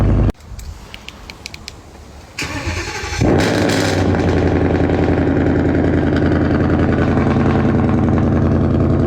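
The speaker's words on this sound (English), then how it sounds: "You can start the engine, please." A car engine cranks and catches, then settles into a loud, steady idle close by, with a few clicks and rattles before the start.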